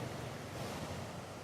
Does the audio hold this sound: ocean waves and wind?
yes